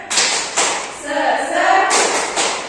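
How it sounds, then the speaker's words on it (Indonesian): An elementary school class does the rhythmic tepuk semangat spirit clap, a few sharp loud group claps framing a short chanted call-and-response of children's voices. "Ayo semuanya ikutin ya. Tepuk semangat"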